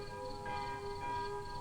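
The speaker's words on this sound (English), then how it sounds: "the curfew bell tolled its warning" A curfew bell tolls at nightfall over a hillside town, its sustained, ringing metallic hum swelling slightly as it is struck again, steady and moderately distant with no voices.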